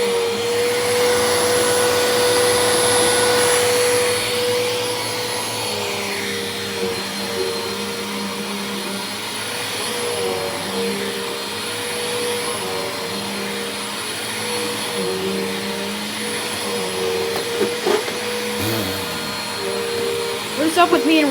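A household vacuum cleaner from a collection of vacs, foot-operated on-off switch, runs continuously up close with a steady motor whine and airflow roar, pitch shifting slightly as it moves over surfaces, with a few brief bumps near the end.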